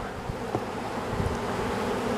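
Honeybees buzz steadily around an open hive in a Polish apiary, a dense, continuous close drone with a few brief knocks and handling sounds.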